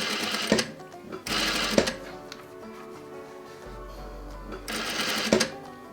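A sewing machine stitches a seam on a wedding veil in short bursts, a fast mechanical whirring that starts and stops several times, fairly close and moderately quiet.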